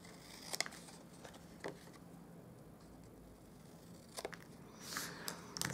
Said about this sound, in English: we'll just grab our scissors and we're just going to cut across those tick marks.